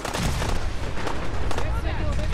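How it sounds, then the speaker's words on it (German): An explosion in the video game Fallout 4 cracks out as several loud, sharp gunfire-like bursts over a dense rumbling background of combat noise. "da hat was explodiert"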